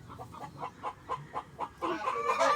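Chicken clucking nearby in a short run of evenly spaced clucks that turn into a louder, denser burst of cackling near the end.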